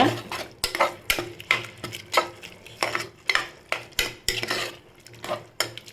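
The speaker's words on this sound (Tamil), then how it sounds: "நம்ம இஞ்சி பூண்டு சேர்த்தாச்சு சேர்த்து நல்லா வதக்கிக்கோங்க" Onion, tomato, ginger and garlic sautéed in a pan for dried-fish biryani, with a spatula scraping and stirring in a steady run of about a dozen close, clattering strokes and no voices.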